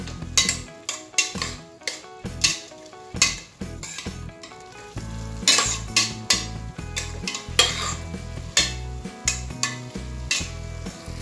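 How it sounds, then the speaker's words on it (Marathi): A spoon stirs biryani masala through rice pulao in a pressure cooker, giving a close, steady run of scraping and clinking strokes against metal with a soft sizzle underneath, alone without any talk. "आता यात आपल्याला 1 चमचा बिर्याणी मसाला घालून घ्यायचा आहे। आणि ते व्यवस्थित एकजीव करून घ्यायचं आहे।"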